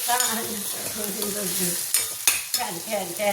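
Green-mango chutney sizzles and bubbles in a pan while being stirred, with a continuous frying hiss, several sharp scraping clicks near the end and some tonal bubbling underneath.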